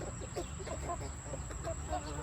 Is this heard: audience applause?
no